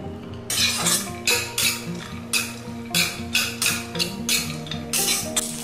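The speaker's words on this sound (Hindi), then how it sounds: "घी में फ्राई करूंगी ड्राई फ्रूट्स, मैं थोड़ा सा घी डालूंगी" Cashews and almonds fry in about a spoonful of ghee in a kadai, heard as repeated scraping strokes of a spoon against the pan in a regular rhythm over a soft, low sizzle.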